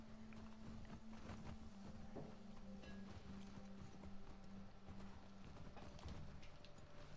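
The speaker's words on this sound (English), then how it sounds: "Let me get off this bloody horse." Horse hooves clip-clop in a steady walking rhythm in The Last of Us Part II, soft and fairly distant, with faint ambient game sound beneath.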